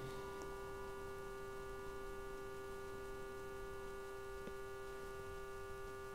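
A faint, steady electronic hum from a theremin with several fixed tones drones on without change, with occasional soft ticks and no voices.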